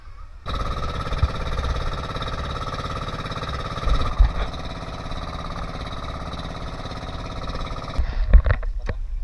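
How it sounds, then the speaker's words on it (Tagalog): Steady drone of a diesel fishing boat engine idling nearby at sea, loud and continuous, with a few knocks and bumps toward the end. "diesel ang makina niya"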